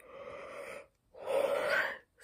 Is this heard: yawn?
yes